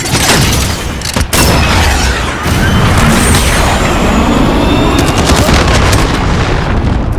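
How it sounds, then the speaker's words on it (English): A cruise missile launch in a military game or film, heard as a loud, sustained roaring rush of broadband noise with sharp cracks and booms, filling the whole span without pause. "Cruise missile, go for launch."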